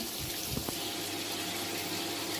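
Umbrella and puffball mushrooms, washed and lightly dried rather than boiled, fry in a pan at a country dacha, giving a steady, close sizzling hiss throughout with no talk.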